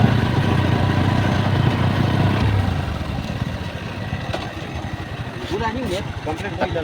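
A motorcycle engine rumbles low and steady, fading somewhat midway, while people talk over it outdoors.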